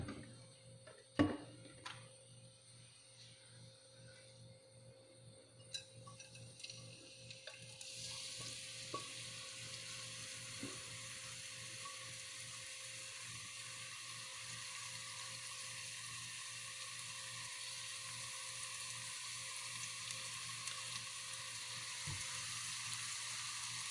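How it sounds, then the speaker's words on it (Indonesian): Blended spice paste for ayam bumbu rujak stir-fried in a little oil: a few soft clicks and stirring scrapes at first, then a steady, close sizzle that sets in and holds to the end, with no talking. "Lalu kita tumis bumbunya, kasih minyak dikit."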